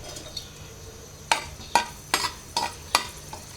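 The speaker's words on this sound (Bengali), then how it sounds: "আর এখানে শুকনো মরিচ ভেজে নিচ্ছি" Dried red chillies frying in plenty of mustard oil, with a low sizzle under five or six sharp, evenly spaced spatula strokes against the pan.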